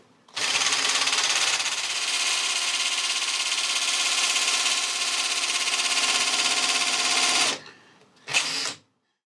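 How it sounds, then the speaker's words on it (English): A centre drill cutting into a flat face on a milling machine, a loud steady high whine and chatter lasting about seven seconds, then stopping, followed by a brief second burst. "Now I can centre drill onto a flat face."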